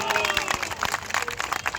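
Applause from a crowd at an outdoor election campaign rally in Bhangar, scattered clapping throughout with a loud voice over a PA system talking on top.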